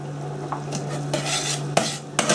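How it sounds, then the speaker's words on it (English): Onions being stirred into melted butter in a soup pot, with a steady sizzle and several close metallic scrapes and clinks of a spoon against the pot, no voices. "Keep stirring while I'm doing the onions."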